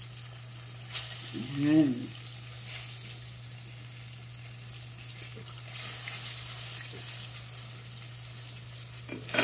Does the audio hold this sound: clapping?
no